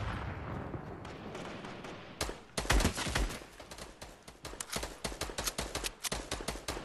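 Gunfire in an online shooter video game, a steady rumble giving way to a rapid burst of loud, sharp shots, then a stream of evenly repeated bangs, heard alone without talk.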